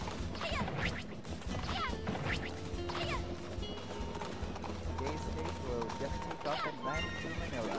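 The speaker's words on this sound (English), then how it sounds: "Do I hear a hurt horse?" A hurt horse in a video game whinnies repeatedly against clip-clop hooves, crashes and thwacks from busy game action, with voices talking over it.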